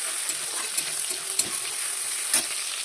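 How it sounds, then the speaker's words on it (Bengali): Chopped tomatoes frying in hot oil tempered with asafoetida, giving a steady close hiss and crackle with a few soft stirring clicks, no voices. "এবার দিয়ে দিচ্ছি টমেটোগুলো, টমেটোগুলো দিয়ে দিই।"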